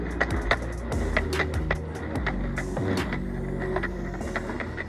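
Skateboard rolling along while pumping through carving turns, a steady gritty wheel roar broken by repeated clacks and thumps as the board shifts weight, fairly close and with no talking.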